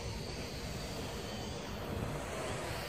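A DBPower Hawkeye V RC airplane flying outdoors gives a steady, continuous motor whir with broad wind-like noise, holding an even level throughout without talk.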